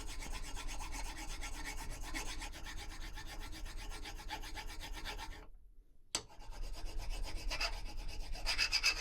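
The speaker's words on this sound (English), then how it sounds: "using the file, grind down that section" A metal file rasps back and forth over a key clamped in a vise, a steady quiet scraping that breaks off briefly and then resumes.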